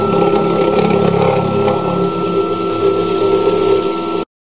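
MaxNC milling machine fly cutting at 4100 RPM and 20 inches per minute, a steady loud whining mechanical drone with motor hum that stops abruptly at the end.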